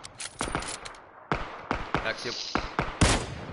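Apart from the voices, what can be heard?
gunfire in the video game PUBG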